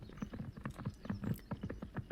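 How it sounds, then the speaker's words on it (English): Galloping horse hooves in the visual novel game Muv-Luv Photonmelodies, a steady, rhythmic clip-clop of quick hoofbeats, moderately close and heard alone. "Must be a galloping horse. The steady rhythm of the steps is pleasant to the ear."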